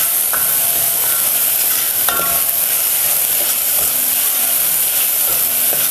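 Homemade onion-garlic masala sautéing in a pan, a steady close sizzle and hiss throughout, with light scraping strokes from stirring and no voices.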